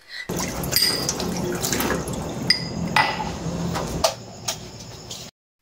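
Tap water runs steadily into a kitchen sink during dishwashing, with occasional clinks of dishes over a continuous wash of running water, fairly close and alone.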